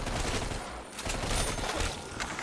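Light machine gun fire in a custom Call of Duty zombies map, a sustained rapid burst of automatic shots with a brief lull midway, moderately loud and without talk.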